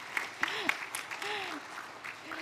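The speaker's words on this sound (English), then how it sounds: "I see someone's clapping, so you can, of course, clap." Applause rises in a conference hall at a G20 development working group session, running under a few voices as people talk nearby, with several sharper claps standing out.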